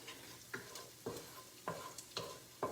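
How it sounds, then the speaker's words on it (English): Paneer frying in a pan over medium heat, a soft sizzle punctuated by about five regular scraping stirs of a spatula, fairly quiet and close, no voices. "So you have to fry them for about 2 to 3 minutes in medium heat"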